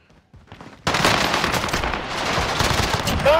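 Gunfire in a battle royale video game, a sudden burst of rapid shots kicking in after a quiet opening, then continuing as dense, loud crackling fire with background game noise to the end.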